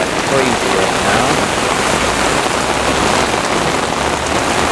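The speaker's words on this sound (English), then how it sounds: "It is pouring rain out here like crazy right now." Heavy downpour during a severe thunderstorm on Ocean Avenue in Parkside, Brooklyn, a loud dense hiss of rain pounding surfaces that stays constant throughout, with someone talking over it.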